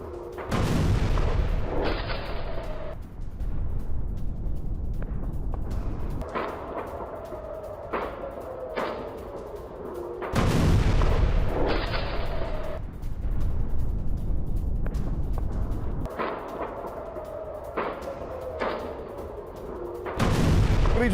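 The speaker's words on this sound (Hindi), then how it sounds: "मिसाइल में जबरदस्त धमाका" Missile explosions and artillery blasts in news footage from an attack on US air bases in Kuwait: a series of loud, booming detonations, each with a sharp onset and a long rumbling tail, repeating every few seconds.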